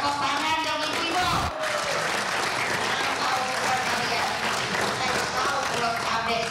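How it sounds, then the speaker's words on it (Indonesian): An audience of women applauds during a political speech on the budget for free nutritious meals, giving continuous steady clapping with a speaker's voice carrying over it. "Tepuk tangan dong ibu-ibu."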